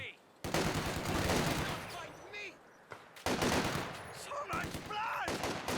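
Machine gun fire in Company of Heroes 2 comes as dense, rapid bursts that break off briefly and resume, loud and close, with faint game voices in between.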